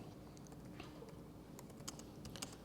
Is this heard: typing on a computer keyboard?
yes